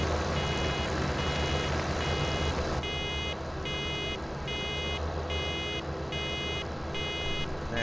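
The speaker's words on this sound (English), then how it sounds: "That beeping is so annoying." Repeated electronic reversing beeps from a vehicle in the farming video game Farming Simulator 17, starting partway through and pulsing in an even rhythm over a constant low engine hum, no speech.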